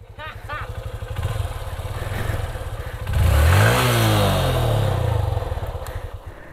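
A Yamaha WR155R trail motorcycle revs hard on a muddy off-road trail, its engine loud and close and climbing through a strained, sustained rise, with people talking over it.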